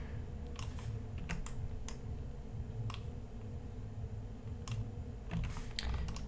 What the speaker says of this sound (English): I can go in, press the V key and change them.